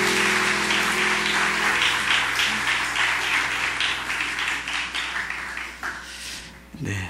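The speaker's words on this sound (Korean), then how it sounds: "우리 큰 박수로 축복하겠습니다." A church congregation applauds together, a dense sustained burst of many hands clapping that gradually thins and tapers toward the end, filling the room.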